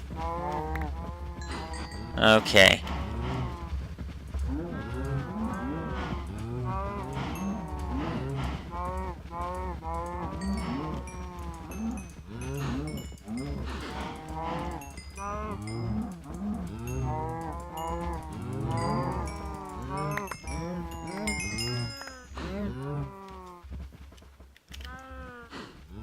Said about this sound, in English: Oh, please tell me there weren't a bunch of baby cows in there.